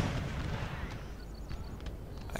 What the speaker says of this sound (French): Tire de la batterie russe